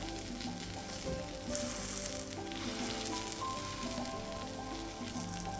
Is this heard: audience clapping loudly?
no